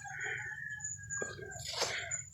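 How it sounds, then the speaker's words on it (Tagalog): A rooster crows on a farm, a drawn-out call in the mid-distance answered by another burst of crowing, with faint clucks and a sharp knock between. "May manok dyan."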